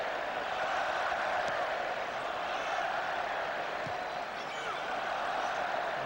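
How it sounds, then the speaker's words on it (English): A capacity stadium crowd at a 2000 France vs England friendly football match applauding, a dense, steady wash of clapping and crowd noise with a commentator talking over it. "Capacity crowd really appreciating this"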